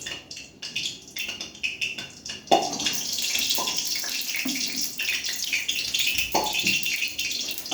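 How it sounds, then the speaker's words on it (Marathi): Poha is rinsed under a running kitchen tap, water splashing and gurgling steadily, with stop-start bursts at first and then a continuous close flow with occasional sloshes. "आता ते धुवून घ्यावे, धुवून मस्त स्वच्छ सगळं धुवून घ्यावे"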